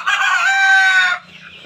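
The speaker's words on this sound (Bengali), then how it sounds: "মোরগগুলো দেখুন, মোরগগুলোর চেহারা, মাথার ফুল বেশ ভালো হয়েছে।" A rooster lets out one loud, close crow lasting just over a second, followed by a brief quieter tail of farmyard sound.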